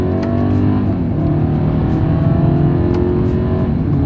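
A 2024 Mercedes-Benz GLE 350 in sport mode accelerates hard on a straightaway, its engine drone loud and steady from inside the cabin, with faint clicks now and then and no one speaking.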